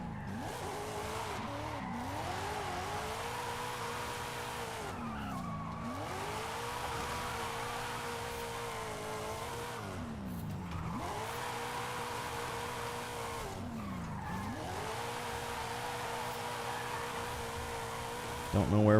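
Drifting car in the racing game Forza Horizon 5 sliding through curves, a steady engine drone with repeated sweeping tire squeals rising and falling roughly every four seconds, loud and continuous throughout.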